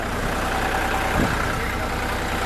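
A tractor pulling a Sardar reaper binder during crop harvesting, its engine giving a steady, continuous drone close by with no talking.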